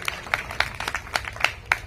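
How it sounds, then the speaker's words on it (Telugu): An audience at a gospel meeting claps in scattered, uneven bursts, the individual claps sharp and fairly close, with no voices over them. "కొట్టండి గట్టిగా చప్పట్ల."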